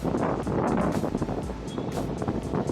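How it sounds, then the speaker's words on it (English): Heavy wind in Cebu blasts across the microphone, a steady loud rumble with gusty surges and no voices. "It's really windy."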